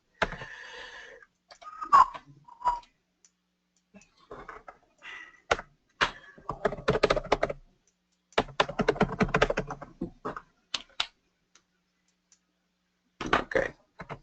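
Typing on a computer keyboard during a PowerShell demo for documenting SQL Server installations: bursts of close, rapid key clicks separated by pauses, with no speech.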